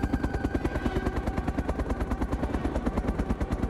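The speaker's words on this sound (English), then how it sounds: "I hear another helicopter. Oh, there's a Huey right behind me." A Huey helicopter in the video game DayZ, with a fast rhythmic rotor thump beating steadily at a moderate level and a low engine drone underneath.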